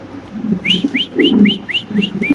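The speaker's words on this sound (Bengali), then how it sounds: "এটা একটা জায়ান্ট হোমা নর কবুতর অ্যান্ডোনেশিয়ান ব্লাড লাইনের একটা কবুতর" A giant Homer pigeon of Indonesian bloodline gives a repeated run of about seven soft rising whistly calls over low throaty cooing, close and steady, with no talk.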